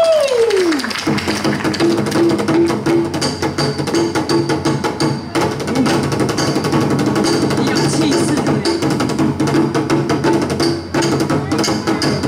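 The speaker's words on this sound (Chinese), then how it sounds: "好，那就我们带来一首由鼓所演奏的乐器哦" A folk drum ensemble performs festive temple-fair style percussion at an outdoor rural arts event in Taoyuan, with dense continuous beating and cymbal crashes filling the whole stretch, loud and steady with accented hits throughout.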